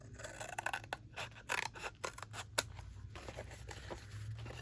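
Scissors snip through paper for a journal in a quick run of quiet, close cuts, with soft scraping and rustling between snips.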